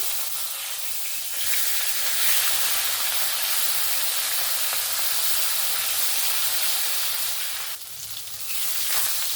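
Katla fish fries in hot oil in a wok, a loud, continuous close sizzle and hiss that briefly drops and then surges again near the end, with no voices.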